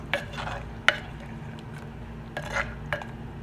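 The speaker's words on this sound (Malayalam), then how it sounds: "ഇത് നല്ലതുപോലെ ഒന്ന് മിക്സ് ചെയ്ത് കൊടുക്കുക" A spoon stirring and mixing curry in a cooking pot, a few distinct scraping knocks against the pot spaced irregularly, close and fairly quiet over a low steady hum.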